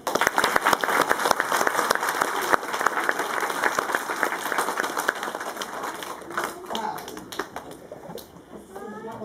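Audience at a school award ceremony clapping, a loud, dense patter of many hands that gradually thins and grows fainter toward the end, with voices faintly underneath.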